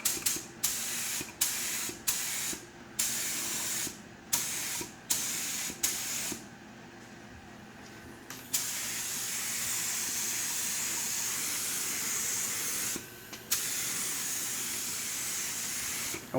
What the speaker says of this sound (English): And we're spraying super thin right now. This is single stage.